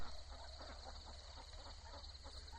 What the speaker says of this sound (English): let out all the ducks